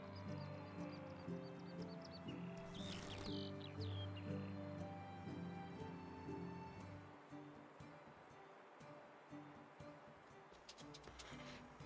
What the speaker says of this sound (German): Man hört die Krähen schon.